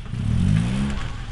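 A car engine revs hard for about a second while reversing into a parking space, a loud, rising mid-pitched roar with no talk over it.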